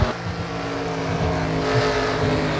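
Race cars at speed in the NR2003 racing video game at Gateway, a loud continuous engine roar with a droning pitch that shifts slightly, close and steady for a short stretch without talking.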